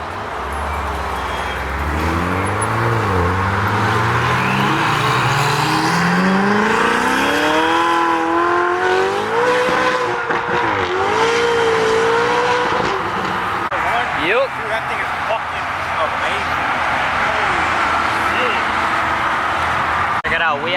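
A Ferrari 488 engine roars as it revs, pitch sweeping steeply upward, then holds a loud, throaty drone with voices in the background at a car show.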